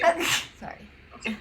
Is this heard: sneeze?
yes